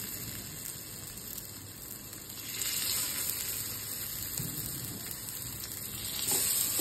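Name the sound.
hara bhara kebabs frying in hot oil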